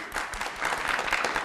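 Audience applause in a television studio, a steady wash of clapping from many hands throughout, moderately loud and close.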